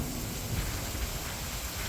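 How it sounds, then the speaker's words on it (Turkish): Heavy rain falls steadily at night during a storm, a dense, continuous hiss and patter with no breaks and no voices. "Yağmur durmadan yağıyor."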